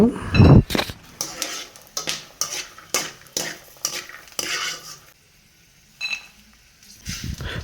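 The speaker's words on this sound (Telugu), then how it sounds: "అలాగే పల్లీలు కూడా వేయించుకుందామండి" Peanuts roasting dry in a pan while a spoon scrapes and stirs, making rhythmic clinking, rattling strokes with short pauses, close by and under a voice talking at the start.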